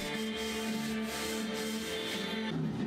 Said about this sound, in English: I sanded again, but this time at 240 grit just to get the MDF edges as smooth as possible